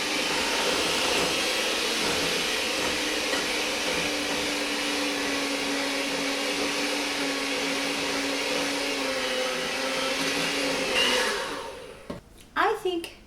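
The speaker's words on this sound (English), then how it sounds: "Now blend this up until it's smooth." A blender whirs loudly and steadily through brown butter icing made with milk and vanilla for about eleven seconds, then winds down and stops with a few clunks.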